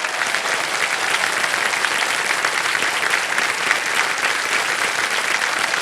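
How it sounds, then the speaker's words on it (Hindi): A studio audience on a TV quiz show breaks into steady, loud applause that holds for several seconds without a break. "तालियां बज जाए इनके लिए।"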